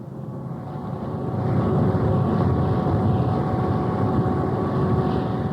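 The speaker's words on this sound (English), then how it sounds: "and the distant sound of its engines." Distant engines of a tugboat at sea, a steady low droning hum that swells after the first second and holds, with faint wind noise and no voices.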